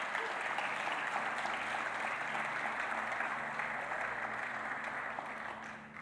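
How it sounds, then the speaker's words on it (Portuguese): A church congregation claps together in sustained, even applause that holds steady for several seconds and eases slightly at the close. "Você pode aplaudir a Deus pela palavra dele?"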